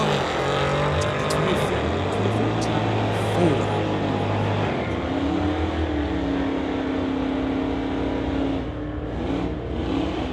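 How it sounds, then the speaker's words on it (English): A Dodge Challenger and a 2014 Ford square off in a street-legal drag race, engines revving hard and roaring loudly and continuously, with pitch climbing as the cars accelerate down the strip. "We now have Warren Hamill from Langley driving the Challenger, going up against Ken from Coquitlam, the"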